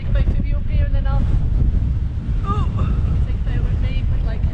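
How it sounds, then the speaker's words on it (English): Strong gusty wind on the exposed gritstone edge of Stanage Edge buffets the microphone with a low rumble throughout, while a voice speaks briefly over it. "it's windy, it's windy"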